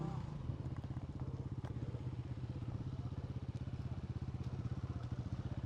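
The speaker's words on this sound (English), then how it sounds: "I'm not sure what Alan was doing with his KTM" A KTM motorcycle engine runs close by with a steady, rapid pulsing thrum that holds evenly throughout, with no talking over it.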